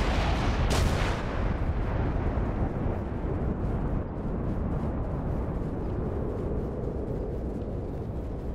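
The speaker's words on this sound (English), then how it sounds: "Nuclear missile has landed at East Zone." A nuclear missile explodes in the video game Darwin Project as a huge close blast that sets off a sustained roaring rumble, which slowly thins into a long, dense, crackling tail.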